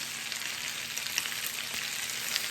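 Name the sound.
sun-dried tomatoes in oil sizzling in the pan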